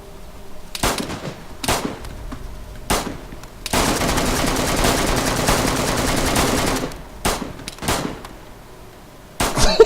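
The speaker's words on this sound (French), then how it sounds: "J'ai mis un chargeur complet." Gunfire in a video game empties a full magazine: several single loud shots, then a sustained burst of rapid automatic fire lasting about three seconds, followed by more scattered shots, all close and loud.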